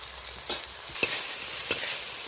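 Shrimp are sautéed in an onion, tomato, ginger and garlic masala for a coconut shrimp dish, a soft steady sizzle broken by three distinct spoon scrapes or stirs, close and without talk.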